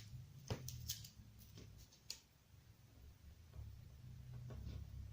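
Scissors snipping through paper card while making a simple and double greeting card, a few short crisp cuts spaced over a faint room hum, fairly close and quiet.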